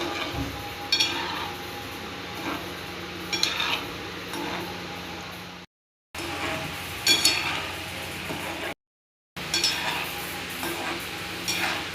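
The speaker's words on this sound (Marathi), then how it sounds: "सगळे असे मस्त आता तळून घेते" Gulab jamun frying in oil over low gas makes a steady, soft sizzle, with occasional clinks and stirring scrapes of a utensil against the pan; two brief dropouts interrupt it.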